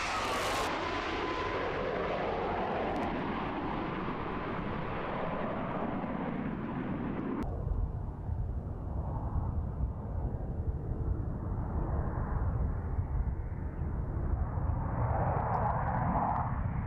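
EA-18 Growler military jet with a continuous loud roar of engine noise, heavy and broadband, holding steady throughout as if passing or idling nearby.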